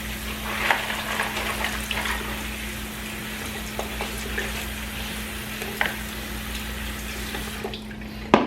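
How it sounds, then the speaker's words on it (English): Frozen shrimp rinsed under a running tap, a steady wash of water over a constant low hum, with occasional small knocks and splashes throughout. "Rinse it off and we'll get some of the ice off it."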